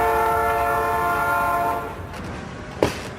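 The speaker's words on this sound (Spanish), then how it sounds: "En ese momento sonó el silbato del tren" A train horn blasts a loud, sustained chord for nearly two seconds, then fades into rumbling rail noise with a sharp clank.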